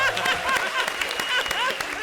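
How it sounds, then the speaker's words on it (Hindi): Audience applause at a Hindi comedy show, a steady wash of clapping filling the room for about two seconds, with laughter-like voices and chatter mixed through it. "जोरदार तालियां अरबाज भाई के लिए।"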